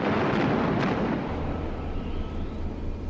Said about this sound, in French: Les obus de gros calibre pleuvent sur le pont du navire allemand.